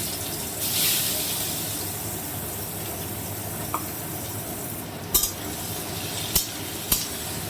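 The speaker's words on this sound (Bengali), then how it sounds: "এবার আমি পেঁয়াজ কুচিগুলো দিয়ে দিচ্ছি" Chopped onions sizzling in a pan of oil for mutton curry, a steady frying hiss broken by a few sharp clinks of a spoon against the pan.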